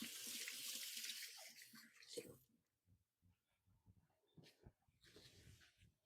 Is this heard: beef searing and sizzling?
no